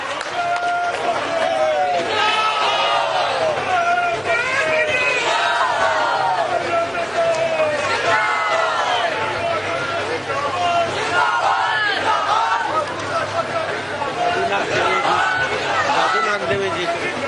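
A large crowd at a public rally cheers and shouts loudly throughout to welcome the chief minister, with continuous chanting and crowd babble and a voice carrying over the noise.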